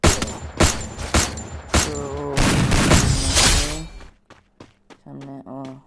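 Gunfire in the Free Fire video game: a burst of sharp, loud shots and booming impacts followed by sparser pops and tonal game effects, with a brief spoken word.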